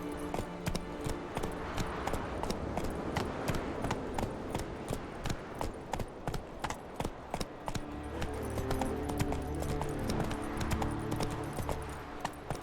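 Horse hooves clip-clop in a steady, brisk rhythm in The Witcher 3 video game, with a musical score running beneath the hoofbeats.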